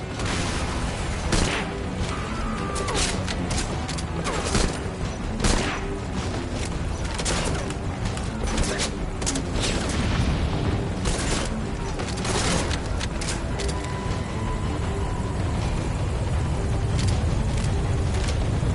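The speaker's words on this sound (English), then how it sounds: "That rifle is equipped with an underbarrel grenade launcher. Put it to good use." Underbarrel grenade launcher explosions and rifle fire ring out in Metal Gear Solid Ground Zeroes, a loud, continuous barrage of booms and shots with mechanical clatter throughout.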